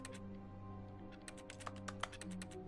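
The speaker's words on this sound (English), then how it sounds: "Am I typing on a keyboard?" Keyboard typing in The Stanley Parable, quick irregular clicks of keys pressed in short bursts, faint and close, over a soft steady background hum.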